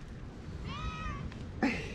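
Cats in an abandoned war-damaged resort meow, one clear drawn-out wavering meow in the middle followed by a shorter sharper cry near the end, close and fairly quiet over a faint background.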